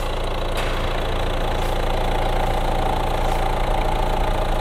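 A Peugeot 2008 1.6 BlueHDi diesel engine idles steadily and loudly nearby, a constant low rumble with a faint rhythmic knock and no changes in speed.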